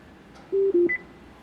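Acura RDX 2013 in-car Bluetooth system sounds a short series of clean electronic tones on hanging up a call: two lower beeps followed by a brief higher one, close and alone over quiet cabin background.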